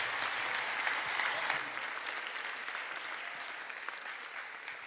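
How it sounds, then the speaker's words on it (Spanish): A church congregation applauds steadily during a Spanish-language worship service, a dense, sustained wash of clapping that fills the room at close range and carries on without letup. "Denle un aplauso al Señor."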